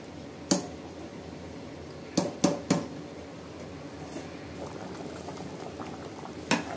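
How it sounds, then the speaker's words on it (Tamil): Chicken or mutton salna simmering in a pot, a soft steady bubbling hiss, with a few sharp clinks of a utensil scattered through it and no speech. "நல்லா கொதிச்சிடுச்சு, உப்பு காரம்லாம் நல்லா ஏறிடுச்சு."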